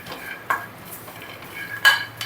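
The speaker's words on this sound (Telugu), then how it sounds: "లైట్గా వేగిపోతాయి చూసారా ఇలా" Peanuts dry-roasting in a pan without oil alongside onion and green chilli, with a few scattered scrapes and clinks of a spoon against the pan over a faint steady hiss, close but quiet.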